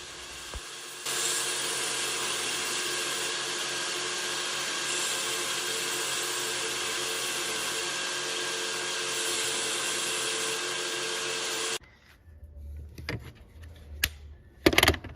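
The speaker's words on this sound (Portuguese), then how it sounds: "A lixadeira de cinta, ela lixa a madeira de acordo com o veio da madeira" A belt sander whirs steadily along the grain of wood for about ten seconds, then stops, followed by a few scattered knocks and handling sounds.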